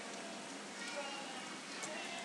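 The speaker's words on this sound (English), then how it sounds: "It's raining heavily, I think." Steady heavy rain falling, a dense even hiss of drops with no breaks, moderately loud and continuous throughout.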